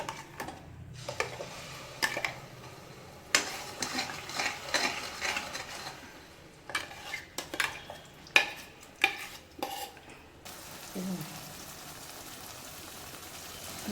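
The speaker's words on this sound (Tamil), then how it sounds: "எண்ணெய் ஹீட் ஆகிடுச்சு ஊற்றிடலாம்" Ground paste poured into hot oil for tomato rice sizzles in bursts, crackling spatters coming and going irregularly over a soft background hiss, with occasional utensil clinks and no talking.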